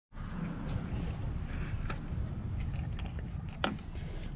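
A revived 1963 VW Beetle engine runs steadily, a continuous low rumble with wind buffeting the microphone and a few brief clicks.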